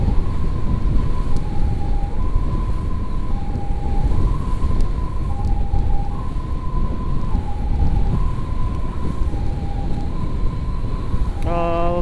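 Ambulance siren during an emergency patient escort from Nagreg, wailing in a steady two-tone cycle, loud and continuous over heavy road and wind noise.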